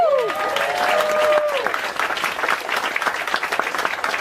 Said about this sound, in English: Big round applause, Mr. Christoph from Germany.